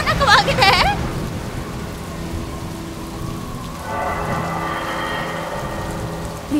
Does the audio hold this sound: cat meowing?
no